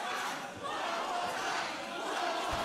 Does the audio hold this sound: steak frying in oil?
no